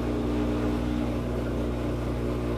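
An automatic washing machine showing an E3 error starts its spin cycle: a steady, close mechanical hum with a low motor drone and rising whir, continuous and fairly loud, with no talk.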